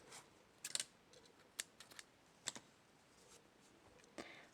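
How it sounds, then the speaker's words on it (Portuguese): Scissors snip crochet yarn while an amigurumi giraffe toy is being made: a handful of brief, sharp clicks spaced irregularly over a very quiet background, with no talking. "Posso cortar este fio aqui."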